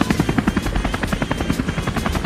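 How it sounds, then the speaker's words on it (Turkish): Helicopter rotor effect, a fast rhythmic thudding chop with a buzzing engine tone, loud and steady throughout with no voices. "Biz helikoptere binip gideceğiz."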